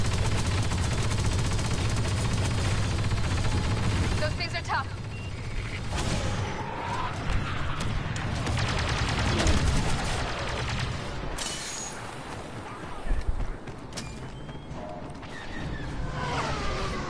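Gunfire in the Star Wars Battlefront 2 video game, with dense bursts of rapid blaster and machine-gun fire, booms and whooshes running loudly through about seventeen seconds, thinning in the middle and then picking up again.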